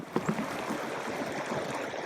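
A river stream in the Adirondacks flows close by with a steady, moderate rushing and gurgling of water, with a couple of brief splashes near the start.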